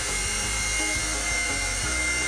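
A small RC helicopter hovers low to the ground, giving off a steady high motor whine and dense rotor buzz with faint rhythmic pulsing, close and continuous with no talking.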